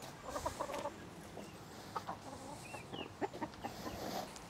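Chickens kept in a home garden cluck softly and sporadically in short, scattered bursts, faint and somewhat distant over a quiet outdoor background.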